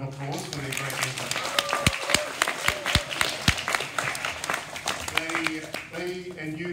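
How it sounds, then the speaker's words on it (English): An audience claps after student talks: a sparse, uneven round of applause with distinct individual claps, moderately close, while a person speaks over it. "Can we give them one more round of applause for their great effort?"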